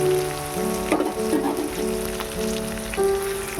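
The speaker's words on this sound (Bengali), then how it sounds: "এবারে একটু নাড়তে থাকবো যতক্ষণ না লঙ্কাটা একটু নরম না হয়ে যায়।" Green chillies sizzle and crackle in hot oil while being stirred in a pan, a steady close frying hiss with a few sharper spatters and scrapes, no talking.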